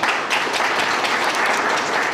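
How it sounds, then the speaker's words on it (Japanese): Audience at a Japanese architectural seminar applauds, a steady dense burst of many hands clapping throughout, with no talk over it. "今一度大きな拍手をお願いします。"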